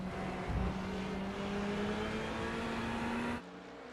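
GT3 race cars, a Ferrari and a Porsche, drone steadily at Watkins Glen in iRacing, their engine notes rising slowly before cutting off abruptly.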